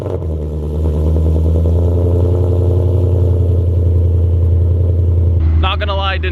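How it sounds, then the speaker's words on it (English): Car exhaust note at a car meet, a steady loud idle drone lasting several seconds before easing off, with a short burst of voice at the end. "You'll be able to hear that beautiful exhaust note."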